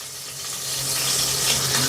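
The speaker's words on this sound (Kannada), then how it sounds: "ನೋಡಿ, ಹಸಿಮೆಣ್ಸಿನ್ಕಾಯಿ ಸ್ಲಿಮ್ಮಲ್ಲಿ ಇಟ್ಕೊಂಡು ಹಾಕ್ತೀನಿ." Green chillies hit hot oil in a pan and set off a steady, close hiss of frying that swells a little louder as they settle in. No voices can be heard.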